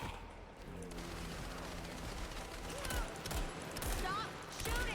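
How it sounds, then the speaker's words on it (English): Bursts of rapid gunfire in a video game, with scattered rattling shots and sharp cracks running under a voice, moderately loud and irregular. "Stop shooting me"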